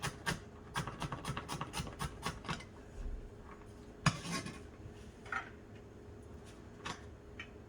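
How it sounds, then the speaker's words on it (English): A knife chops fresh ginger and garlic on a board for a Chinese shrimp and vegetable rice noodle stir-fry, starting with a quick, even run of crisp chops and then a few scattered cuts. "we are going to cut some ginger and garlic, fresh ginger and garlic, to cook with this dish"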